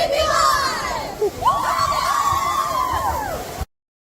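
A high school cheer squad from Corinth chants and cheers in unison, loud rhythmic shouted calls with rising and falling pitch, close and energetic, cutting off abruptly at the end.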